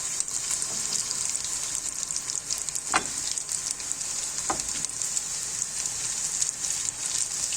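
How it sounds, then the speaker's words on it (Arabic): Dough balls sizzle steadily in hot oil with a constant bright crackle, two sharp clinks of the balls being turned cutting through the continuous frying hiss. "ساعة قلبوا الزيت."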